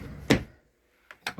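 A household drawer being opened and closed during home cleaning and organizing: one knock-like thud, then after a pause two quicker sliding bumps, close and fairly loud in a quiet room.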